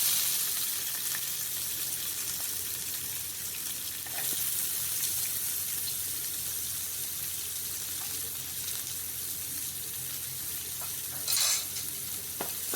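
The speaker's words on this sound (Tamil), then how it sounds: "நல்லா ஃப்ரை ஆகட்டும்." Chopped onion with cumin seeds fries in hot oil in a pan, giving a steady close hissing sizzle with occasional stirring scrapes and a brief louder crackle near the end.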